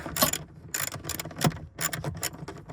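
A ratchet clicks in quick bursts as a 10mm screw is backed out near the amplifier of a Lexus IS200, close and fairly quiet.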